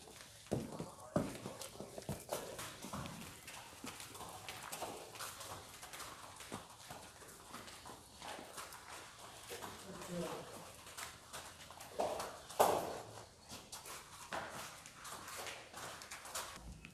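Dairy cattle for sale walk with hooves scuffing and clopping irregularly on the ground, faint and partly buried under people talking nearby.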